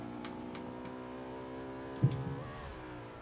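Racing car engine accelerating in Forza 5, a steady harmonic drone that rises in pitch as throttle is applied, with a brief thump and rougher burst near the end, heard close and alone.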